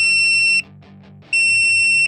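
A soldering heat plate for iPhone repair gives two long, loud, high electronic beeps, about a second apart, signalling that it has reached temperature. No voices are present.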